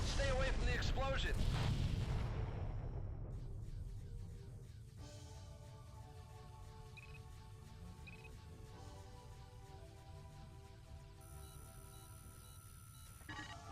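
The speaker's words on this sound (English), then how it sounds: "Stay away from the explosion." A cargo freighter explodes in the space combat game Descent: Freespace, with a loud, dense boom at the start that rumbles and fades over a few seconds into a lower drone of ship and cockpit sounds.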